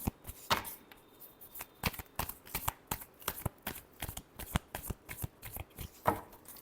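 Tarot cards are shuffled by hand in a rapid run of crisp riffling snaps and slaps, close and fairly even in rhythm, with no talk over them.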